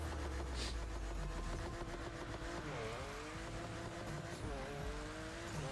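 Car engine in The Crew Motorfest racing game, a continuous loud revving drone with pitch swoops as the car shifts and accelerates, alone with no talking.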